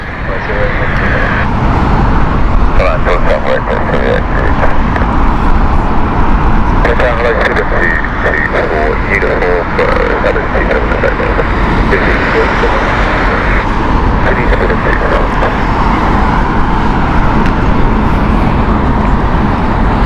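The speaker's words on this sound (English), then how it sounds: "Air Serbia next with it, Airbus A319" An Air Serbia Airbus A319 at Heathrow Airport roars loudly and steadily throughout, a sustained broadband engine rumble with a voice talking over it.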